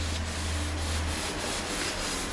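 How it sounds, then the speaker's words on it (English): An oven door handle is wiped and cleaned with steady, close rubbing strokes, a continuous scrubbing sound over a low hum. "So you're going to clean along the handle itself."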